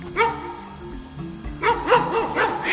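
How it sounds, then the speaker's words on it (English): A dog barks in a rapid run of close, loud yips and woofs, a few at first and then a quick burst of several, with no speech over them. "Shut up, dog."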